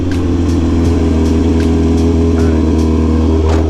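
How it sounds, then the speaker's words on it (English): Motorcycle engine idles loud and close, with a heavy low rumble and short repeated throttle blips spaced roughly every half second. "this guy was revving his motor"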